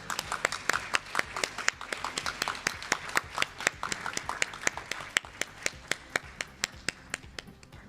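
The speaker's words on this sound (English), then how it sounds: "Let's greet them with a big round of applause." Panelists are greeted onstage at a Tokyo asset management forum with applause made of a few sharp, distinct, fairly close hand claps, beating in a loose regular rhythm and slowly thinning toward the end.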